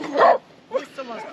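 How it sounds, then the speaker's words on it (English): Dog giving a short bark followed by a couple of softer yips and whimpers, heard close within a quiet indoor setting. "It's a dog."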